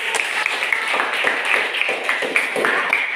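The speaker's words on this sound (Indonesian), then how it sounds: "tepuk tangan." Steady applause from a class, many hands clapping continuously with small bursts of emphasis, fairly loud and close, without voices on top.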